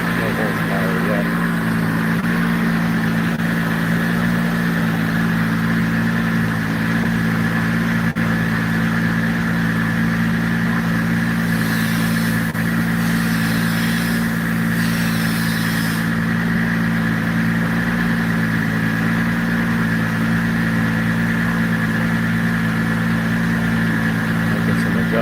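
A car engine on a dyno runs at a steady, loud idle with a constant low drone, while people talk over it.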